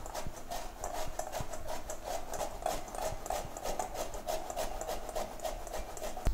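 Orange peel being grated for an orange cake, a steady run of quick rasping scrapes against the grater in even rhythm, close and moderate, with no talk over it.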